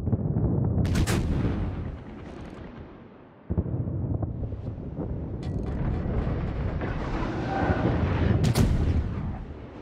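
Heavy battleship main guns firing in World of Warships, deep booming salvos with sharp cracking reports, one near the start and another late, over a rumbling roar of shell impacts and ambient battle noise.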